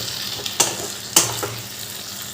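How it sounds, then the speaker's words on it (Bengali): Ghee and ground garam masala stirred together in a pan for a pumpkin dish, giving a soft steady sizzle with two sharp scrapes of a spoon against the pan. "আর দিয়ে দিচ্ছি এক চামচ ঘি এবার আমি এই ঘি গরম মশলাটা ভালো করে মিশিয়ে দেবো"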